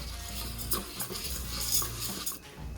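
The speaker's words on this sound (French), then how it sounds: "On mélange bien." Utensil stirring organic rice with olive oil in a large pot: scraping and clinking against the metal over a soft sizzle, close and continuous, with no voices.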